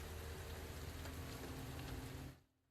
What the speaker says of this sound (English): the rain's really quiet